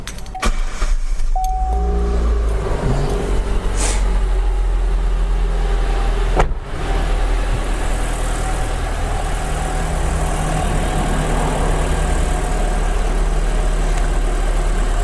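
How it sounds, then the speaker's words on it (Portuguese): A car engine cranks and catches, then settles into a steady low idle, loud and close, during an automotive diagnostic test with all electrical loads switched off. "eu vou dar o próximo e eu vou dar partida no motor"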